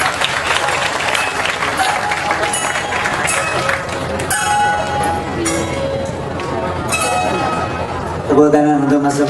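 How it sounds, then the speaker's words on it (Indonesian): A crowd at a cultural dialogue event in a pendopo in Yogyakarta keeps up loud, continuous clapping, with occasional voices and tonal sounds mixed into the applause. "Tepuk tangan untuk Mas Sobari"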